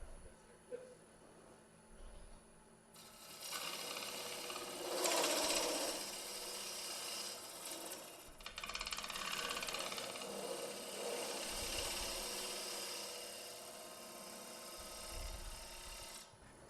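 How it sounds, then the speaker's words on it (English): A bowl gouge cuts the outside of a wood blank on a woodturning lathe, melted metal set into the wood. The motor hums steadily, and a louder rushing scrape of cutting swells and fades in long passes, faint in the distance. "now I'll relieve some of this wood on the outside with my bowl gouge."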